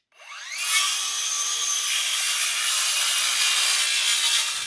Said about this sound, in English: I just need to cut that relief so that when the gate closes